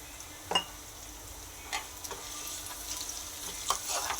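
Spices tempering in hot oil for a South Indian dish, with urad dal, fenugreek and mustard seeds; a faint steady sizzle broken by a few sharp pops and spatters, quiet and without talk.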